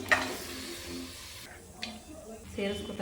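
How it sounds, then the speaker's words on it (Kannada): Minced mutton fries in a pan with turmeric and rock salt, a faint sizzle with occasional stirring clinks and scrapes, while a person talks over it. "ಹಾಗೆಯೇ ಕಲ್ಲುಪ್ಪು ಕೂಡ ಸೇರಿಸ್ಕೊಂಡು ಚೆನ್ನಾಗಿ ಫ್ರೈ ಮಾಡ್ತಾ ಇದ್ದೀನಿ."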